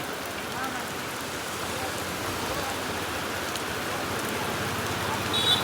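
Steady rain falls on a roadside fish stall, a dense even hiss of drops on surfaces with low rumble beneath, no talk.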